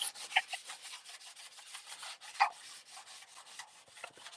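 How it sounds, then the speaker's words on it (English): Surface rust is scraped off a car trunk by hand in repeated short rasping strokes, close and fairly quiet, with a few sharper scrapes standing out. "getting a bunch of this surface rust up, um, cleaning this trunk up and getting it right"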